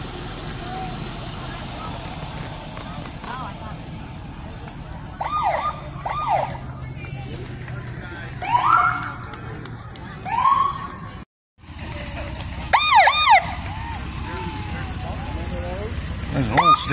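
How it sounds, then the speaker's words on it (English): A 1988 Ford LTD Crown Victoria state police car in a 2023 Old Home Day parade gives several short, rising siren whoops in bursts, over a steady outdoor crowd murmur with people talking nearby. "State police car, huh?"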